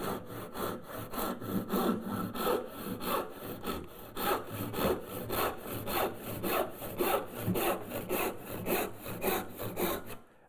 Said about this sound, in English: take a handsaw, go from that opposite corner,